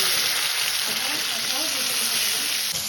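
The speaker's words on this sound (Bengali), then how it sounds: "ওই কড়াইয়ে আমি চাটনিটা করে নিচ্ছি আজ আমি করছি টমেটোর চাটনি দিয়ে দিচ্ছি আদা রসুন সিদ্ধ করা টমেটোটা" Tomato chutney with ginger, garlic and boiled tomato cooking in a wok, giving a steady, close sizzle that runs the whole time with faint stirring and no talk.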